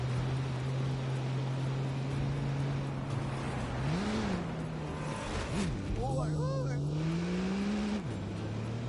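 A Jeep races fast in The Grand Tour video game with a steady droning engine note that rises and falls in pitch as it revs and shifts, loud and continuous, while a voice talks over it.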